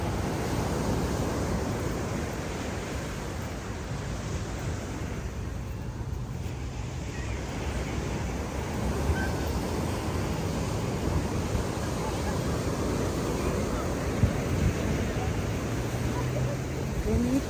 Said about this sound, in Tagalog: Did you hear the wave, guys?